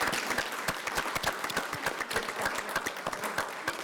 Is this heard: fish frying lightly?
no